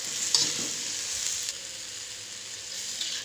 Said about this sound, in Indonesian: Terakhir kita masukkan tomat. Kita aduk-aduk kembali.